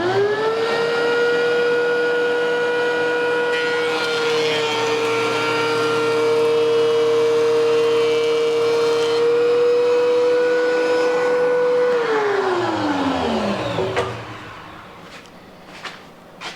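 A DeWalt 735 thickness planer feeds a board with a DC 650 dust collector attached, giving a loud, steady, high-pitched whine with a bright tonal hum. Near the end it winds down with a falling pitch and fades into quiet rattles.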